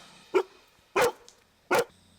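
Three loud, sharp dog barks ring out, evenly spaced about a beat apart, with quiet pauses in between.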